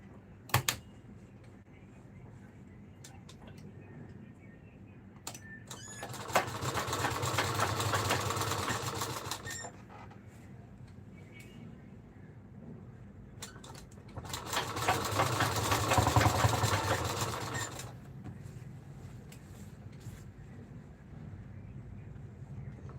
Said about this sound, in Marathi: आणि आता हे शिलाई मारत आपल्याला जोडून घ्यायचं आहे